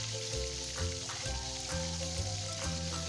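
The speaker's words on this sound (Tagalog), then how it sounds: "Ito ay hahayaan kong mag-simmer dito sa mantika na mayroong luya." Chicken drumsticks with crushed ginger frying in oil, a steady dense sizzle with low bubbling underneath, continuous and close.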